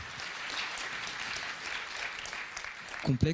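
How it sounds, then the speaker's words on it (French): Warm applause from a conference audience greeting the speakers, a steady broad patter of many hands filling the room, with a voice briefly breaking in at the end. "on peut chaleureusement applaudir les intervenants"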